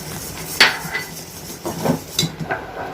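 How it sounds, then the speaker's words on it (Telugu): Rice flour being stirred into jaggery syrup in a pan with the stove off, for a sweet: a few sharp utensil clinks and soft scrapes against the pan, close and moderately loud, with no voices. "స్టవ్ ఆఫ్ చేసుకొని పిండిని వేసుకుంటూ ఇలా కలుపుకోవాలి."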